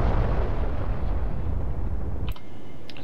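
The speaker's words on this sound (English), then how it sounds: "you get this good explosion" An explosion in the DCS World flight simulator, a loud sustained rumbling roar that cuts off abruptly near the end, leaving faint clicks and quiet.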